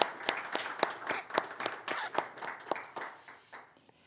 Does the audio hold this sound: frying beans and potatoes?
no